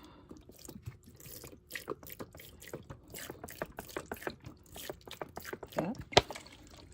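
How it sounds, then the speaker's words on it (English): Water from a watering can pattering and dripping onto seedlings for pea and bean planting, irregular close splashes and trickles with a sharper splash near the end. "So I use this to water my little guys, my seedlings."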